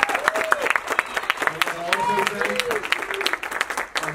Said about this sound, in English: One more round of applause for our candidates.